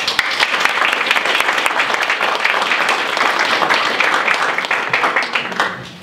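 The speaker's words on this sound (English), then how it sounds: "I actually think that deserves a big round of applause" An audience at a company presentation bursts into a big round of applause, dense and loud clapping sustained for about six seconds before tapering off near the end.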